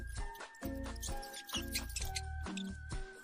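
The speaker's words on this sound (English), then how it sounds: "mouse," A mouse squeaks in a rapid run of short, repeated high chirps, faint and close, with no talking over it.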